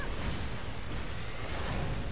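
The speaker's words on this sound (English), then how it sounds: "Oh my lord, that was a lot of explosions" Rapid overlapping explosions from the action game Torchlight 2, a dense, loud barrage of bursts and booms with no break across the whole span.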